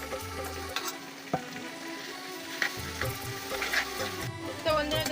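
Ginger, garlic and onion paste frying in oil, a soft sizzle with occasional stirring clinks and a low hum running underneath.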